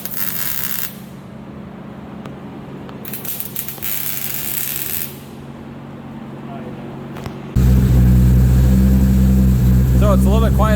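A Nissan S14 drift car prepped for competition, with its muffler fitted, idling and then revving hard in the last few seconds, loud and close, after a stretch of quieter engine noise with hisses and clatter.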